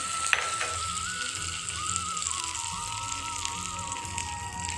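Hot oil tempering sizzling and crackling steadily as it hits a wet chutney, a dense close-up frying hiss with small pops, no talking.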